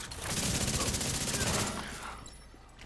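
Weapon fire in the video game The Division 2, a sustained rapid automatic burst of loud, evenly spaced shots that stops and fades into quieter game ambience, with no talking.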